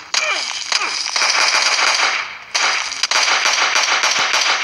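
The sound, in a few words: gunshots in the video game PUBG Mobile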